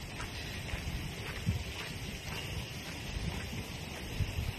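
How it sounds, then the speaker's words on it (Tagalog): Steady roaring wind buffets the microphone with low rumbling gusts throughout, a continuous blustery rush with no talk. "Lakas po ng hangin"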